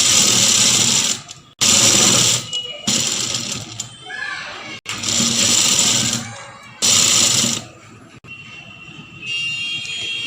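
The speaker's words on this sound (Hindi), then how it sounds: "अब हम इसके ऊपर सिलाई लगा देंगे।" A sewing machine stitches fabric for a kurti and gharara in loud, rapid whirring bursts of a few seconds each, separated by short pauses, close to the microphone.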